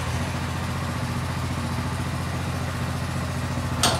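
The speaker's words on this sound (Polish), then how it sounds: "spróbujemy sprawdzić, czy ten silnik odpali" A Quantum RS motorcycle whose carburetor needs cleaning runs at a steady idle, its close, even engine drone and clatter holding for four seconds before a brief burst of noise at the end.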